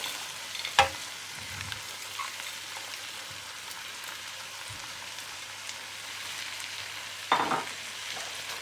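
Cauliflower and peas frying in a pan for vegetable pulao give a soft, steady sizzle throughout. A couple of brief clatters from stirring or adding ingredients rise above it, and no one speaks.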